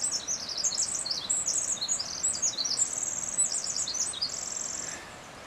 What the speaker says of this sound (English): There's birds singing.